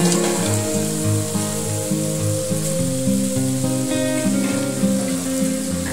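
Fish deep-frying in hot oil at a lakeside eatery in Netta, Kanyakumari district, a steady loud crackling sizzle that fills the whole stretch without a break, close by.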